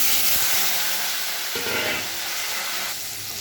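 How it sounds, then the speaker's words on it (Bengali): Potatoes drop into hot oil already frying flattened rice, giving a steady hissing sizzle that swells briefly as they go in. "চিড়েটা ভাজা হয়ে গেলে আলুটা ছেড়ে দেবো আলু ছেড়ে দিলাম"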